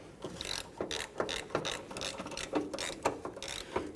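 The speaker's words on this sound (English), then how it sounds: "On the back side, I'm just going to use my regular ratchet." A hand ratchet snugging nuts on the strut studs of a 2011-2015 Kia Sorento front strut assembly, with a close, steady series of quick clicking pawl strokes in even rhythm.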